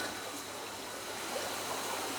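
A fast-flowing river current beside a villa room, a steady, faint rushing wash of water with no pauses.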